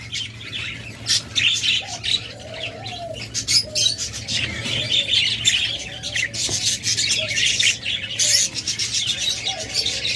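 Caged cockatiels, lovebirds and budgerigars chirp and squawk together in a dense, nonstop chatter, loud and close, with shrill calls overlapping throughout.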